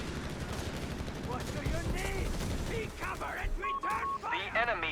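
Machine-gun bursts and heavy artillery fire from a Company of Heroes 3 battle, a .30 cal and Wehrmacht versus US forces, roll on in a loud continuous barrage with sharp cracks and booming impacts, with no talk over it.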